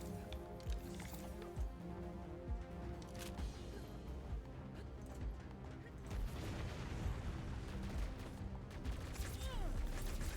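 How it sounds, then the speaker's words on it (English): Video game combat full of explosions and weapons fire, a dense barrage of booms and bursts that thickens toward the end, heard alone at moderate level. "Explosions everywhere."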